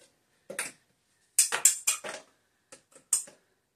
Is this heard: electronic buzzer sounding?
no